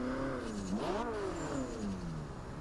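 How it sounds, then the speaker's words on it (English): A Ferrari 458 Speciale in Forza Horizon 2 revs up and down, its engine tone sweeping upward then falling away in a continuous, fairly loud pass with a faint high whine above. "you can definitely hear the turbochargers"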